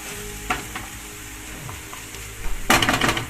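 Mushrooms and peppers sauté in a pan for a breakfast egg dish, a steady low sizzle with a few soft clacks as the pan is shaken, then a louder burst of frying noise near the end.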